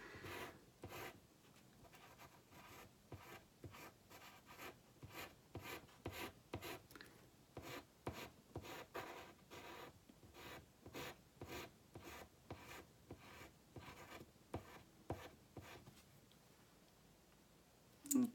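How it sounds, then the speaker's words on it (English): A 6B pencil shades a drawing on paper with quiet, steady back-and-forth scratching and rubbing strokes, close and soft, repeating in an even rhythm for a long stretch. "And grab the 6B pencil for this."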